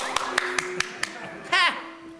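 A performer clapping for himself: five sharp, evenly spaced single claps close by, followed by a brief vocal exclamation.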